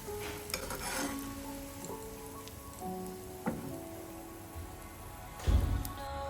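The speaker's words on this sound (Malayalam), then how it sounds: "ഇനി ഇതുപോലെ തന്നെ ബാക്കിയുള്ള വഴുതനങ്ങയും കൂടി ഫ്രൈ ചെയ്യും" Eggplant slices frying in hot oil in a Kerala kitchen, a soft steady sizzle and crackle with small stirring clicks, ending in a louder brief burst of scraping or bubbling near the end.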